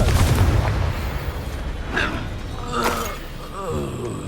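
A Confringo blasting spell in Hogwarts Legacy bursts with a heavy low boom at the start, then lighter crackling magical impacts and whooshes follow, with faint voices in the combat.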